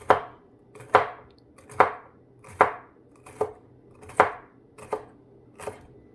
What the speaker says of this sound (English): the next step is just to slice it super thin